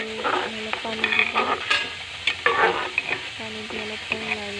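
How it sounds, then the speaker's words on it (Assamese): Rice grains frying in a pan being stirred until they turn reddish, a soft continuous sizzle broken by repeated scraping stir strokes and light clinks of the spoon against the pan, no voices. "ৰঙচুৱা হোৱালৈ লাৰি থাকিব"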